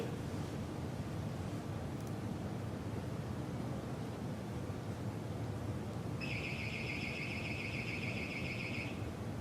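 An alarm set off by stepping on a triboelectric nanogenerator carpet sensor beeps in a steady two-tone electronic pattern for the last few seconds, sitting over a broad wash of background noise.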